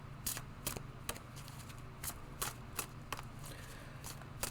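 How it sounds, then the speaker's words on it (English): Quiet, irregular riffling and snapping of a deck of cards being shuffled by hand, a series of short crisp bursts at close range with no talking. "That's how I shuffle, because cards pop up or flip."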